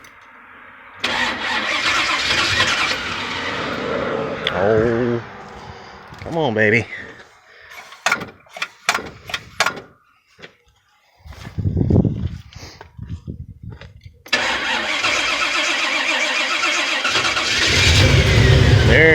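A Pontiac with a Pipes Violator exhaust cranks through several stuttering attempts, then fires and settles into a loud, rough idle close by, while someone talks and coaxes it between tries.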